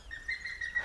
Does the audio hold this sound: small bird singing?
yes